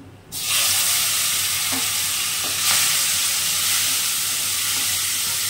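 Prawns hit hot oil already frying cashews and bay leaves, setting off a sudden loud, steady sizzle that holds close and even for several seconds with no voices.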